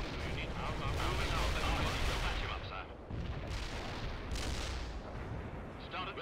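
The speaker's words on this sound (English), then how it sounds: "I'm gonna keep on calling in more airstrikes." Airstrike explosions in World in Conflict, a dense continuous rumble of blasts and heavy booms, fairly faint and steady, with a few sharper bursts, under a voice.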